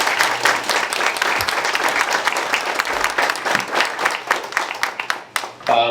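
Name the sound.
audience applause for the seniors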